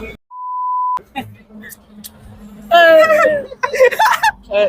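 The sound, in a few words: censorship beep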